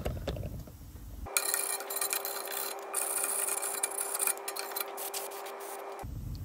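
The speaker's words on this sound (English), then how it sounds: "it's always a good time to just give them a bit of a wire brush" A wire brush scrubs the wheel hub bolts on the rear of a Mk3 Ford Focus. The rasping scrub is close and loud and runs steadily for about five seconds with no talking.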